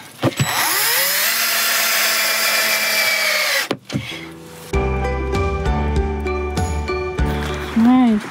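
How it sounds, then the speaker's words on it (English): A power drill drives screws through subfloor into support blocks inside a van, with a long whining run followed by shorter stop-start bursts, close and loud, a voice speaking briefly. "She's screwing in the subfloor to those little blocks that were put in."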